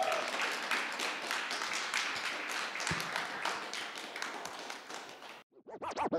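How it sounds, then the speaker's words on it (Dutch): Audience clapping at an art-and-music event, a dense sustained wash of many hands applauding for about five seconds before cutting off abruptly, with a few scattered claps after. "Blijf klappen, blijf klappen."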